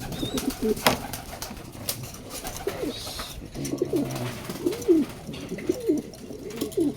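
Young pigeons coo repeatedly in soft, rolling phrases, fairly close, with scattered rustling and other bird sounds around them.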